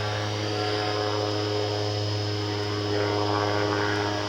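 A steady, continuous drone of an airplane flying overhead, heard from a backyard with trees blocking the view, moderately faint and unchanging, with a constant hum underneath and no talking.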